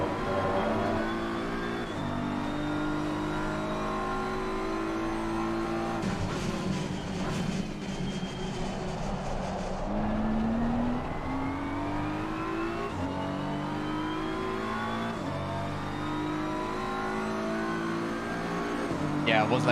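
Racing video game car engine droning steadily and loudly, with manual throttle blips as the driver downshifts and revs rise and fall; a voice talks over the continuous engine note.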